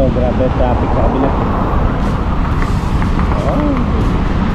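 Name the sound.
heavy road traffic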